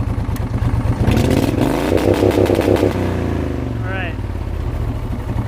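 A race lawn mower engine runs on a two-step rev limiter, barking in rapid stuttering bursts and popping revs that grow loud, then ease to a steady idle. Someone speaks briefly over the engine.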